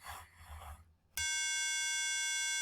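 A steady 311 hertz buzzer tone from an electronics homework circuit switches on abruptly after a brief stretch of background noise and holds loud and unbroken to the end.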